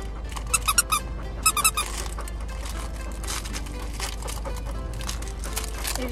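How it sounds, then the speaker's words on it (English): A squeaky dog toy squeaks in quick bursts of three or four near the start, then gives way to soft crinkling and faint rustling indoors. "I think it squeaks."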